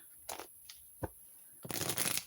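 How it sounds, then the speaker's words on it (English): Tarot cards being shuffled by hand, a few quiet riffling bursts early on, then a louder, denser shuffle run near the end with no voices. "After I'm done shuffling, I will cut once"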